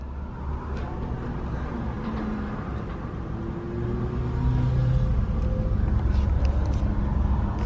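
A long truck drives past on a New Zealand road, a steady low rumble of engine and tyres that grows louder and fuller toward the end as it nears.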